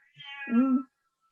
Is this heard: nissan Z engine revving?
no